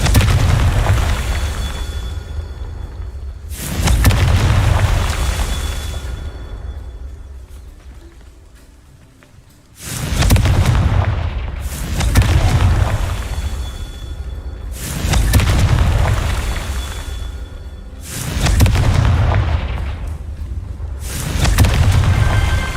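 Fire spell blasts in Hogwarts Legacy: a series of about six deep booming explosions with rushing flame tails, spaced a few seconds apart, loud and heavy.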